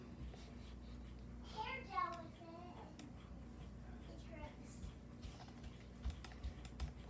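Keys tapped on a computer keyboard while a password is entered, a quiet run of light clicks and short bursts, with a brief voice murmuring partway through.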